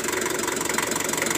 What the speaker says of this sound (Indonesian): Dan ini mesin dalam kondisi nyala ya teman-teman.